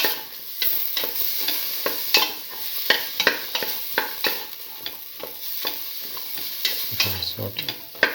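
Bottle gourd and red chillies sautéing in a pan, with a soft sizzle under repeated sharp scrapes and clacks of a spatula stirring, close and alone.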